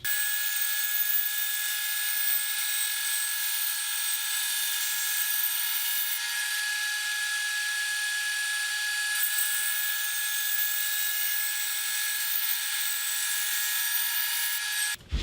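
A thin-kerf saw slicing thin strips from a short wood board held on a flat plate clamp sled: a steady high-pitched whining cut that runs continuously for about fifteen seconds before stopping abruptly.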